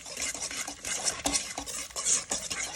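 A utensil scrapes and taps against a bowl in quick, uneven strokes as a cup of sugar is mixed into banana bread batter. The sound is close and fairly quiet, with no talking.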